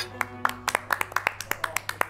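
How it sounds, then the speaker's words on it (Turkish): A group claps in a quick, uneven rhythm at a meal, with a steady low hum of music and chatter underneath. "Alkış."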